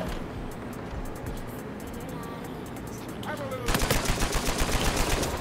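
Gunfire in Uncharted 4: A Thief's End multiplayer on PS4, a steady stream of rapid shots that swells into a louder, denser automatic burst near the end, with no talk over it.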